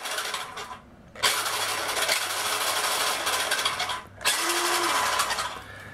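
The 9.6V motor of a vintage Tyco Fast Traxx RC car whirs loudly in low gear in two long bursts, with a short pause between them, and no one speaks.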